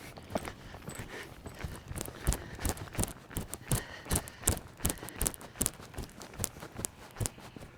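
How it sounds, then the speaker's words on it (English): A horse lopes around an arena, its hoofbeats a steady run of soft, evenly spaced thuds at moderate distance, with no talk over them. "It's a nice lope off. Good, slow him right back down."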